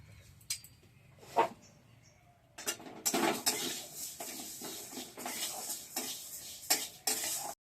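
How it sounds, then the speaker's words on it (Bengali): Moong dal being dry-fried in a hot wok, with a spoon scraping and stirring in repeated bursts against the metal and a light rattle of grains, close and fairly loud with no talk. "এবার আমি মুগ ডালটা দিয়ে দেবো, ভাজবো, ভেজে নেব আগে"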